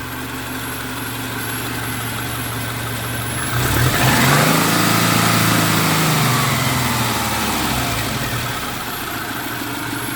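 A 2000 Subaru Impreza engine idles steadily up close, rises briefly in a mild rev, then settles back to its even hum.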